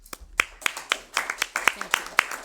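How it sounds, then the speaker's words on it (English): Scattered hand claps from a small group at a town selectmen's meeting, a sparse, uneven round of applause rather than a full ovation, moderately close in a quiet room. "And I think we need a round of applause."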